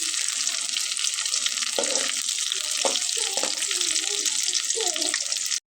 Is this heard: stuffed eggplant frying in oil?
yes